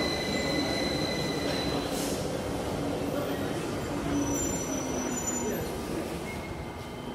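A London Underground Victoria Line train, the 08:58 from Walthamstow Central to Brixton, runs at platform 4 of King's Cross St Pancras with a loud, steady rumble and thin, drawn-out wheel squeals throughout.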